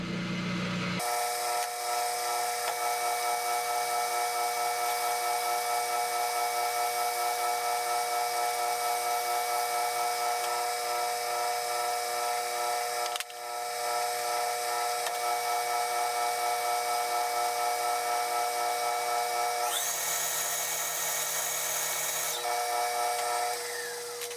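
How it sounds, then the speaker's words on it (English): A washer bolted to a homemade stepped mandrel spins in a metal lathe while its outer lip is cut, giving a steady, loud machine whine with a brief dip midway and a shift in tone near the end, with no talk. "I have that washer bolted to a mandrel so I can turn it in the lathe"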